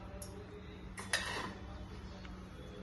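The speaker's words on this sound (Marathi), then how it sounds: "आता मसाला मिक्स करायला घेतला." Masala and oil are stirred into Maggi noodles in a bowl, giving a few faint spoon clinks and a brief louder clatter against the dish over a quiet background.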